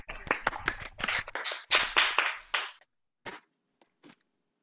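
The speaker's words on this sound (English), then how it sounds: "Applause for Audrey and also applause for Lauren as she comes in" An audience at a university vocal masterclass claps in a burst of applause that thins out after a few seconds into a handful of scattered single claps, then falls quiet.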